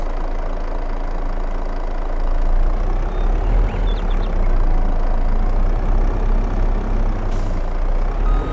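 A vehicle engine idles in Farming Simulator 22, a steady low rumble that holds at a constant level throughout, with no voice.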